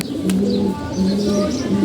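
Red gear pigeons cooing close by, a low rolling coo repeated a few times in quick succession, with light chirps above and no talk.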